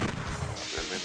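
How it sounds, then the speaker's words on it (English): A weapon shot fired by accident in a video game comes as a heavy, booming blast with a deep rumbling tail, loud and close, with no voices over it. "I didn't mean to fire there."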